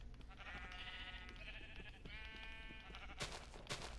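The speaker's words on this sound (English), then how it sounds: "I just need one more of these sheep." Video game sheep bleat in drawn-out, wavering cries over a steady background hum, followed by a couple of sharp clicks near the end.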